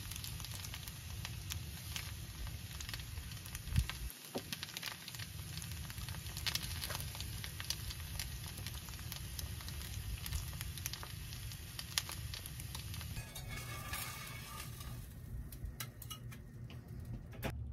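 A preserved egg frying in a pan sizzles steadily with crackling pops and faint ticks, a quiet continuous hiss broken by one brief clunk near the start.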